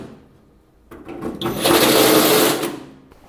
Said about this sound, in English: when I make a hole like this with a unibit, I like to come back from the other side and dress it up so that it is a little bit tapered